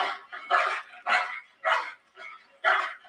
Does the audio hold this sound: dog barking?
yes